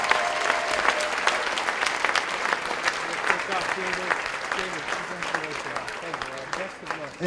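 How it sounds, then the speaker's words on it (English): Audience at a county Teacher of the Year gala applauding the four finalists, sustained clapping from a sizable crowd with scattered cheers and voices mixed in, holding steady for several seconds. "one more round of applause for all 4 of our finalists"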